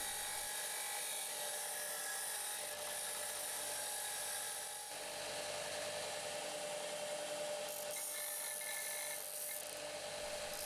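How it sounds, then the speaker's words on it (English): A tool whines steadily as it chamfers the sharp edge of a freshly drilled hole in an aluminium workpiece. The high-pitched, continuous grinding is close and loud, shifting slightly in pitch as the cut goes on. "Now I'm just chamfering the sharp edge so it's nice and smooth."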